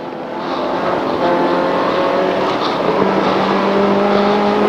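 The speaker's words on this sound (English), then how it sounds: "This is the only Toyota Joe owns that has the engine that it's supposed to, which is in fact a Subaru engine" A Toyota race car fitted with a Subaru engine drives on the Chuckwalla track, its engine note rising steadily and holding a sustained loud drone.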